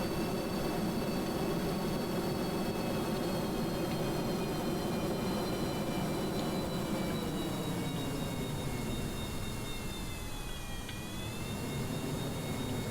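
Aircraft engine drone from a plane flown in the game Kerbal Space Program, a loud continuous roar with steady high whining tones that dip and shift briefly near the end.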